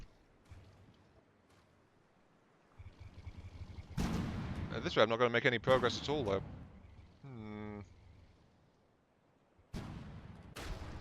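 Secondary cannons in the video game From The Depths fire in heavy, booming volleys, with a metallic clattering barrage and later further blasts, while someone talks over parts of it.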